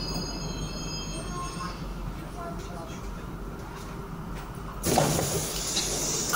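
A Moscow metro train rumbles and hums nearby at a Vnukovo-area station, with a faint squeal, then a louder burst of noise as it settles in; a voice talks briefly over it.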